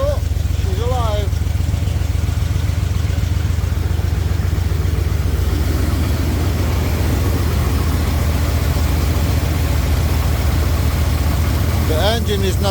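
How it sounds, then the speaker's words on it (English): A truck engine idles steadily after starting, a continuous low rumble running throughout, with brief voices speaking over it at the start and end. "The engine is nothing fancy on this one."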